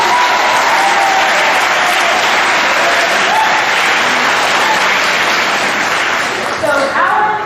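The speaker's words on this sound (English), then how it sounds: "I want you to give a huge round of applause to Alan." Loud, sustained applause from a large crowd at a high school spring sports awards program, dense clapping that fills the whole stretch without letting up.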